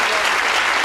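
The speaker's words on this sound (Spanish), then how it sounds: "recibir con un fuerte aplauso a un amigo de la casa, Agustín Laje" Loud, dense crowd applause fills the hall as the audience welcomes Agustín Laje, a continuous roar of many hands with no break.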